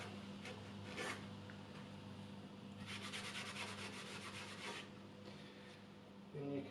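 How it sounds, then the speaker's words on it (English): Soft, quiet rubbing strokes as spit is wiped off an old two-bob coin, a few scratchy bursts close by with no talk. "So I'm just going to wipe the spit off it"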